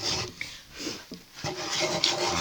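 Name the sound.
hand sanding painted wooden nightstand in small circles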